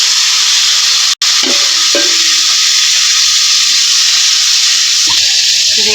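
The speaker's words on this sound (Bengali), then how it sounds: "এদিকে আগে আলুটি দিয়ে নিতেছি" Potato pieces frying in hot oil with cumin and bay leaf, a loud, steady sizzle throughout, broken by a brief dropout and a few soft clinks of stirring.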